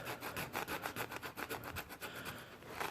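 A blade scrapes a foam adhesive strip off a vinyl window frame in steady, rapid back-and-forth rasping strokes, close and loud, with no talking.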